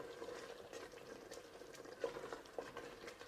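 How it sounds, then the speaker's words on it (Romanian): Rice and water for jollof rice boil hard in a pot, with faint, steady bubbling and a few soft pops close by, and no one speaking. "deja fierbe mult, fierbe destul de tare"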